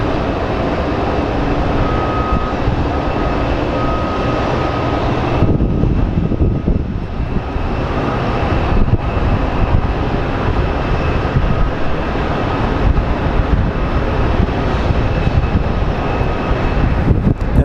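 American Airlines airliner at Phoenix Sky Harbor airport, a loud, sustained engine roar that keeps a broad rumbling tone throughout without pause, close and with no talking.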